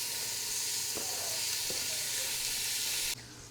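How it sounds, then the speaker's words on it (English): Eight bacon slices render in a pot with a steady, bright sizzling hiss and a few faint clinks, dropping off abruptly near the end. "While my bacon is rendering down"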